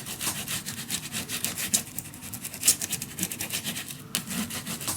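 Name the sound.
burnishing paper down for a mini album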